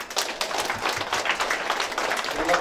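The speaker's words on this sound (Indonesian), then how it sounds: "Tepuk tangan dulu semua." Applause from the audience at an adat council declaration and inauguration ceremony, dense steady clapping filling the whole stretch at moderate loudness.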